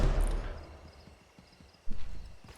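Hooves clop in a quick, regular trot in Assassin's Creed III: Remastered, fading slightly before a louder thump; no one speaks.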